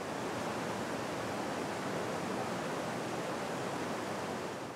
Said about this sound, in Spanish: Ese golpeteo permanente de esa agua se está oxigenando, se viene purificando